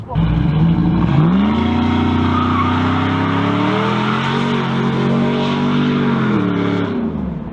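A loud 5.7 Hemi engine with shorty headers revs hard and holds a raspy, aggressive roar for several seconds, pitch climbing and settling, close by with no talking.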